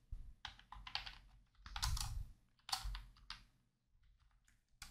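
Rapid, uneven keystrokes on a computer keyboard enter text into an Excel data validation error message, with clustered clicky taps and brief pauses, close and fairly quiet.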